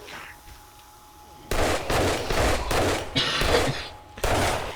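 Video game gunfire erupts after a quiet start: a rapid string of loud, sharp shots in bursts that repeat several times.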